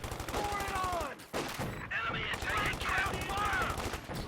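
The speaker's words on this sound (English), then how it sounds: "And see, 50 cal does a lot of damage" .50 cal machine gun fire in a World War II strategy video game, rapid bursts of shots mixed with other in-game combat sounds, running continuously with brief gaps.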